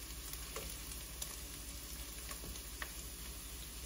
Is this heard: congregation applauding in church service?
no